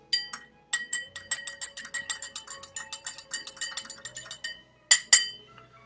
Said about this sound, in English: So what I'm going to do is just stir this.